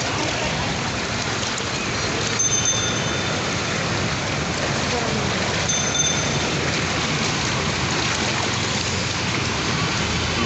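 Heavy rain pours down steadily on a flooded Dhaka city street, a dense, even roar of falling water that continues unbroken, with only faint sounds poking through the downpour.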